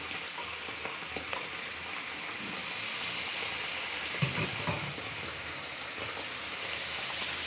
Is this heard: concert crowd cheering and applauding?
no